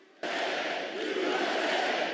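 A large crowd abruptly erupts into sustained, loud cheering and roaring that holds steady throughout.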